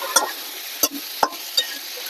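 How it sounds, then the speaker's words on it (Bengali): Water-loosened masala in a pan for a fish-head muri ghonto with flattened rice, stirred in four distinct scraping strokes over a steady soft sizzle, close and moderately loud, no voices. "যত কষাবো তত খেতে ভালো লাগবে তাই একটু জল দিয়ে দিলাম যাতে কষানোটা ভালো হয়"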